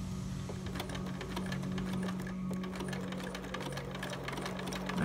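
A sewing machine zigzag-stitches Velcro onto a small preemie shirt, its needle tapping in a fast, even rhythm over a constant motor hum, close and unbroken throughout.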